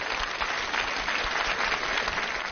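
A large audience at a televised children's show claps steadily and densely, a continuous wash of applause welcoming a kindergarten children's choir, with no one speaking over it.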